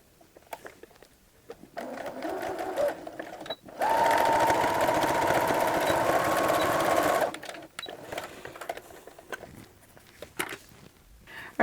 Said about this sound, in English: I am starting with the neckband pieces just by sewing them together.